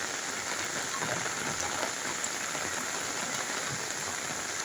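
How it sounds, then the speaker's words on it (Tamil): Heavy rain falls without pause onto the surfaces nearby, a dense steady hiss that stays even and loud from start to finish with no talk. "அப்படியே தொடர்ந்து மழை விடாமல் பேஞ்சு திருக்கி."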